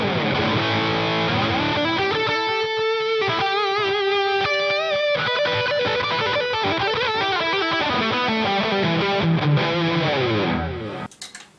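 An electric guitar plays through a NUX Trident processor on a Soldano amp CTSL Lead preset, giving heavily distorted, sustained lead notes and chords with chorus-like shimmer for about eleven seconds before ending abruptly.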